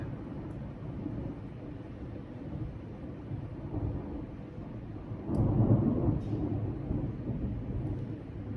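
A low rumble of thunder rolls in the distance, swelling louder partway through over a steady background hiss of rain.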